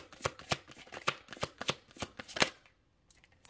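Tarot cards shuffled close up in a brisk run of about nine sharp riffling bursts, steady and loud, ending in quiet with a few faint soft taps.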